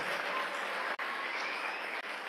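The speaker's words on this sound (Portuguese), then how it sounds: "aplauda mais forte, diga glória a Deus" A church congregation applauds loudly at a Reformation anniversary service, a dense, continuous wash of clapping from many hands filling the room.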